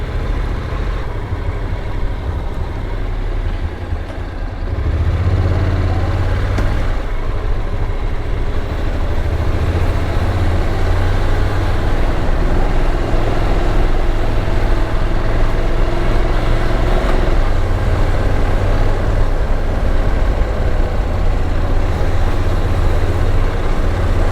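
A boat engine with manual shifting runs and shakes, producing a loud, continuous low rumble that holds steady throughout with no voices.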